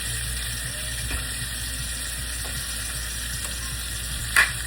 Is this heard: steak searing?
yes